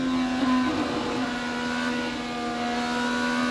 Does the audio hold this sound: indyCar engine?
yes